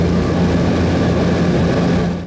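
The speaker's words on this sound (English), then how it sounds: "After takeoff, the friendly drone of the seaplane overhead is a nearly constant companion." Steady, loud drone of an old seaplane's propeller engine flying overhead above British Columbia's coastal rainforest, a continuous even hum with no talk.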